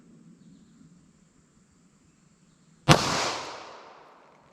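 A snub-nose .38 Special revolver fired in a ballistic test, a single sharp close gunshot after a few seconds of quiet room hum, its blast decaying over about a second.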